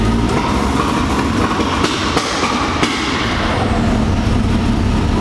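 A Can-Am X3 engine floored on DynoJet launch control in map two stutters loudly up close, its roar chopped by rapid, rhythmic ignition cuts that sound almost like a continuous clattering rattle.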